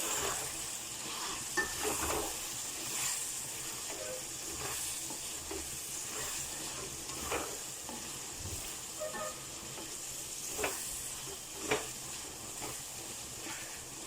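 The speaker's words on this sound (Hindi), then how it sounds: "अब इस स्टेज पे हम ऐड करेंगे 1 चम्मच भर के हल्दी ऐड करेंगे हम। अच्छे से मिक्स करेंगे।" A spoon stirs turmeric into frying goat liver and kidney curry, the steady sizzle of hot oil broken by irregular scraping and clinking strokes against the pan, close and moderately quiet.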